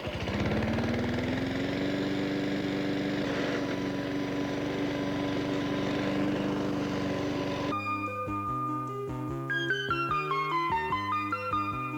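A 1985 lawn mower engine drones steadily and fairly close for several seconds, then music takes over as the engine sound gives way.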